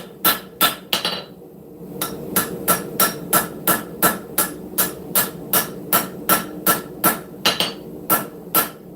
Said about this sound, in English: just making even consistent blows on the steel